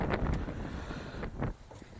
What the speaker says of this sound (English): The wind is hectic.